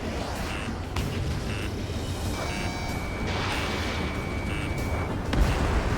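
Missiles launch and guns fire during a jet dogfight in the Ace Combat 7 video game, a dense, loud, continuous roar with a steady warning tone and repeated blasts throughout, and no one talking.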